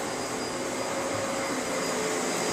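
A household vacuum cleaner runs steadily and loudly close by, a constant broadband whine and roar with no pauses and no talk.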